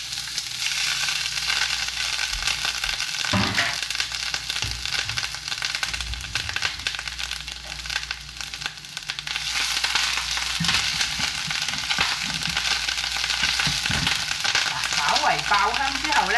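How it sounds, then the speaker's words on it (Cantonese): Minced garlic and ginger, a tablespoon each, frying in hot oil in a pan: a loud, steady sizzle with crackling and occasional stirring scrapes, continuous and close. "呢度呢係1湯匙嘅蒜蓉同埋1湯匙嘅薑蓉"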